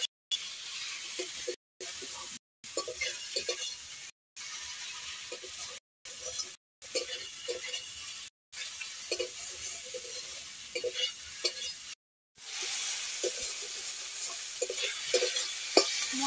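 Spice paste made with ground chili is stirred and fried in oil, a soft steady sizzle with repeated scraping stir strokes, close by and interrupted by several brief silent gaps.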